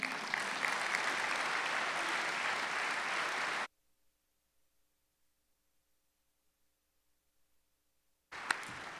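An audience at the IMSH conference opening plenary applauds its storytellers, dense steady clapping for several seconds that cuts off abruptly into silence, then a brief burst of applause resumes at the end.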